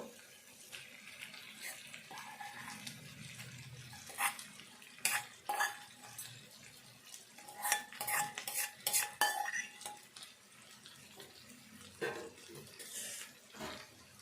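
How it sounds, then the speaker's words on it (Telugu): Bitter gourd and tomato curry stirred in a pan, with repeated close metal spoon scrapes and clinks in bursts over a soft background hiss, no voices. "ఇదంతా కలుపుకోవాలి"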